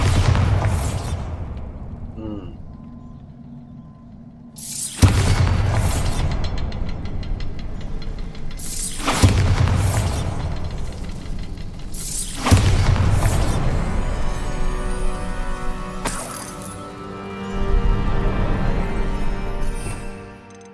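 Repeated Bombarda blasting spells in Hogwarts Legacy erupt as heavy booming explosions, four or five loud blasts spaced a few seconds apart, each with a rumbling, debris-filled tail under a low ambient hum.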